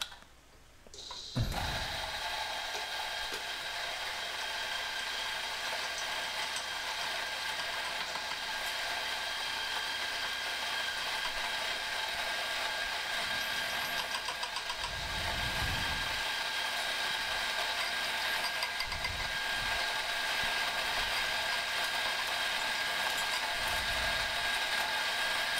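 An electric coffee grinder runs steadily on its finest Turkish coffee setting, a continuous whirring grind that starts after a short pause and holds for about twenty-five seconds, with a few low thumps along the way.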